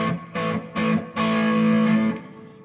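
Electric guitar played through a Fender Bassbreaker 30R amp with the reverb turned up high, a few short plucked notes and then one sustained note that rings out and decays into a reverb tail, with no talking.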